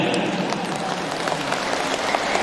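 Audience applause at a kindergarten and primary school graduation ceremony in Bukittinggi, a steady dense wash of clapping filling the whole stretch at moderate level with a faint voice beneath.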